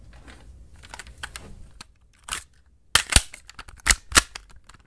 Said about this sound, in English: So the only thing left is that we actually need a reloading gun sound.